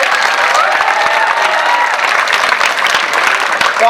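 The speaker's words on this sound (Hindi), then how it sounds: "जोरदार तालियां बजाओ सर के लिए।" School audience at an awareness event breaks into sustained applause with some cheering, a dense steady roar of clapping from a large crowd throughout.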